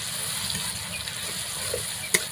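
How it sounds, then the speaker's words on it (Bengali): Garlic paste fries and is stirred in a pan of oil with fried onions, a soft continuous sizzle marked by a sharp clink of the utensil near the end. "রসুন বাটাটা আগে দিয়ে একটু নাড়াচাড়া করে নিচ্ছি"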